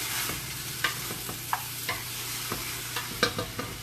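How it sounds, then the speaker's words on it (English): A spoon stirs a pot of greens and onions on the stove, scraping and knocking against the pot every second or so over a constant, close simmering sizzle. "What I'm stirring is just a pot of green with the onions"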